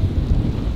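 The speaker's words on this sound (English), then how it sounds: "It is very windy." Strong wind buffets the microphone outdoors with a low, rumbling roar, steady and close for under a second.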